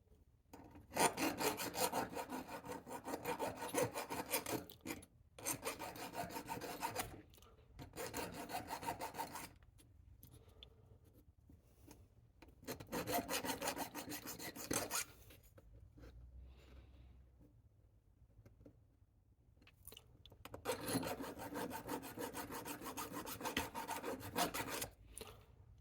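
Hand file rasping metal to deburr a pinball machine part, repeated close scraping strokes in bursts with short pauses between them.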